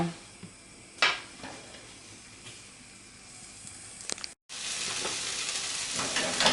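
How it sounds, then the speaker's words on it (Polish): Veal and onion frying in a pot for a hearty peasant stew, a steady hiss and sizzle with a few clanks of stirring, briefly cut off and then returning louder, with no talk. "Mięso z cebulą już mam podsmażone."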